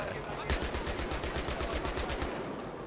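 Rapid automatic gunfire from the video game Battlefield 3 bursts in steady succession, loud and close, with game sound effects and a faint voice in the background.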